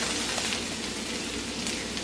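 Onions, garlic and green chili sizzle steadily in a frying pan for an Afghan egg breakfast, a continuous close, even hiss with no talking.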